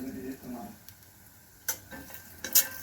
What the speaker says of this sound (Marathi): आता शेंगदाणे आपण थोड्याशा तेलावर परतून घेतो.